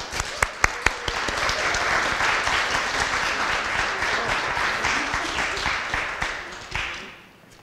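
A crowd applauds to welcome a speaker to the podium at an Impact Talk series lecture: a few sharp early claps swell into steady, dense clapping that holds, then thins and fades out near the end.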